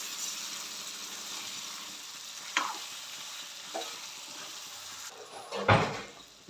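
Chicken pieces sizzle in a pan for curry, a soft steady frying hiss underneath, with a few scraping stirs and a louder clatter near the end, and no one speaking.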